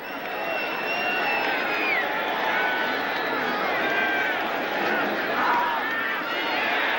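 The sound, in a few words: stadium crowd reacting at NFL football game in San Diego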